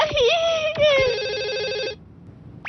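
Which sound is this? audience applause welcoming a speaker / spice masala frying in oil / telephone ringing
telephone ringing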